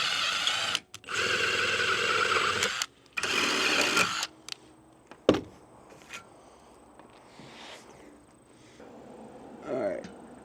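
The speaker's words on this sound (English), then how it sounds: "Now we tap it with this special tapping bit" A drill driving a special threaded tapping bit into metal during cabin building, sounding in loud sustained whirring bursts with pauses, then a sharp knock and quieter scraping and rustling.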